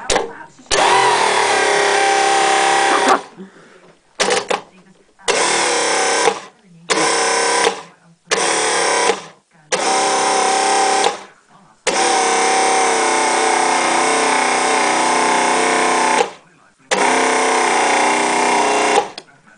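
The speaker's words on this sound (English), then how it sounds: "Speed the starter up a bit." Rebuilt electric starter motor from a boat engine, affected by rust and a bad ground, spinning in repeated loud whirring bursts of varied length separated by short silences.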